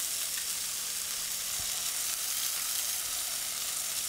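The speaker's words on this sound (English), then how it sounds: "We're going to add a little bit of the vegetable stock to it." Vegetable stock hits cabbage already cooking in a pan after white wine has reduced, giving a dense, steady, close sizzle that continues without a break.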